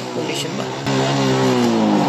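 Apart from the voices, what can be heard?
Suzuki Smash 115 motorcycle engine revving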